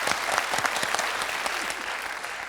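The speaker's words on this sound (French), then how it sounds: "Alors là, ça s'applaudit." Studio audience applause on a French quiz show rises as a dense, even burst of clapping from many hands, moderately loud and continuous throughout.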